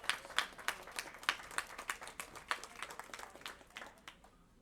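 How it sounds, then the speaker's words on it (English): Scattered applause from a small crowd at a youth bowling scholarship tournament finals, individual claps distinct and fairly faint, tapering off toward the end. "let's have one more round of applause for our 4 handicap finalists"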